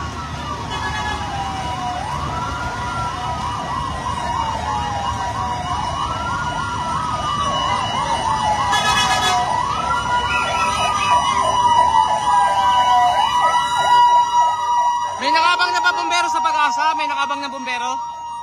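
Fire truck sirens wailing loudly and steadily at a residential compound fire in Las Piñas City, rising and falling in overlapping sweeps, with a horn-like blast near the end.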